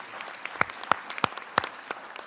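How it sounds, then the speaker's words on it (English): A conference hall audience applauds the panelists, scattered individual claps with a few sharp loud ones standing out, thin and moderately near. "Please give them a round of applause because they've been great."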